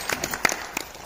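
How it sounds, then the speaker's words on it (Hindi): Participants at a raw-food health camp break into brief applause, a close, uneven burst of many hands clapping with a few louder individual claps standing out. "देखो तालियां हो जाए एक बार।"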